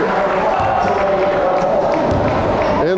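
Crowd at a boys high school regional basketball game applauding players coming off, a dense, loud wash of clapping and cheering throughout, with a voice talking over it.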